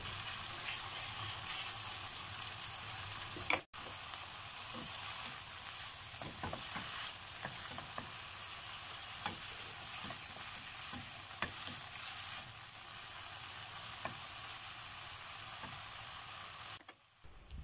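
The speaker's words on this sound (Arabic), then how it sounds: "حطيت الوك على النار وحطيت شوية كده من الزيت، هسيب الزيت يسخن شوية وهنزل عليهم بالفراخ المتقطعة" Chicken pieces frying in hot oil in a wok, a steady close sizzle with scattered pops and crackles running the whole time, one brief break partway through and a quieter tail at the end.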